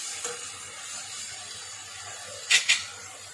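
Ginger garlic paste frying with green cardamom in a pan for egg korma, a steady close sizzle and hiss throughout with a couple of brief sharper spits near the end.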